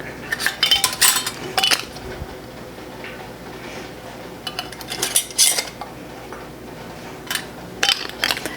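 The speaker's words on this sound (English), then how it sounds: "Now we'll just get the lid, followed by the ring. We're just going to tighten it finger tight." Metal lids and screw rings are set and tightened by hand onto filled homemade grape jam jars, giving scattered light metallic clinks and scrapes in short clusters, close and fairly quiet, with no talking.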